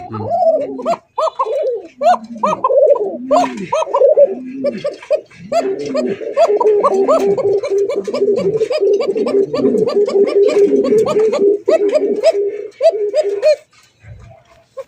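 Arabian pigeons at a pigeon farm coo repeatedly in close, rhythmic bursts of low throaty warbling, overlapping calls continuing for most of the time before fading.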